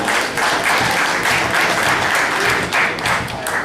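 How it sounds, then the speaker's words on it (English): Steady audience applause at a World Series of Poker Europe final table, a dense wash of many hands clapping throughout, full and close, with no pauses. "One more nice round of applause for Mark Inezan"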